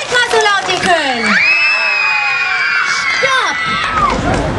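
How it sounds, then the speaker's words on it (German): A children's audience at a live show shouts and whoops loudly together, a brief burst of cheering mixed with an adult voice speaking over it. "Dann klatscht mal so laut ihr könnt. Schreit mal so laut ihr könnt."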